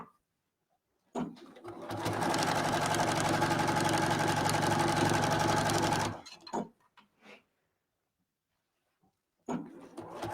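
A sewing machine runs a few back stitches along quilt binding in one continuous, loud whirring burst of about five seconds, then stops, followed by a few brief handling noises and silence.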